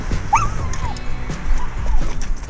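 Dogs wearing a harness-mounted camera whimper and yip excitedly, a thin rising whine and short yelps over continuous rustling and movement noise outdoors, close to the microphone.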